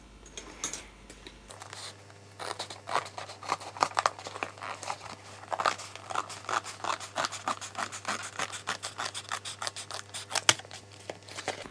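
Scissors cutting paper along a measured line, a rapid series of crisp close snips in a steady rhythm with faint rustling of the sheet between cuts.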